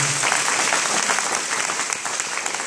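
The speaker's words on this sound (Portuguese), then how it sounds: "aplauda a palavra de Deus nessa manhã" A church congregation applauds during a morning service, dense continuous clapping from many hands filling the room, loud and close, fading slightly toward the end.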